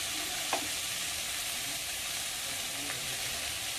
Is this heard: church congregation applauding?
no